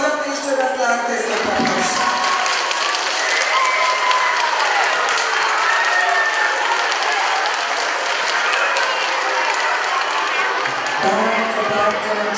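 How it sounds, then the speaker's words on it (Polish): A school audience applauds a performer at a Santa Claus-themed show, giving loud, sustained clapping from a large crowd that fills the room for about ten seconds, with a voice briefly heard at the start and end. "Ale brawa ogromne jeszcze raz dla artysty"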